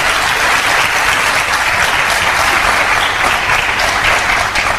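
A large audience at an Amway business event bursts into loud, sustained applause, a dense wash of clapping that stays steady and fills the whole stretch with no voice on top.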